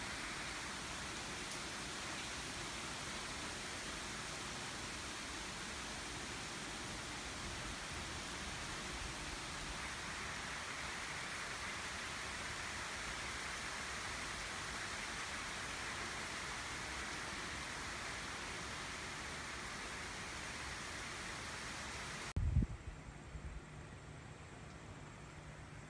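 Rain falls in an August garden as a steady, even hiss of drops on surfaces that holds unchanged for a long stretch, then drops away after a sudden bump near the end.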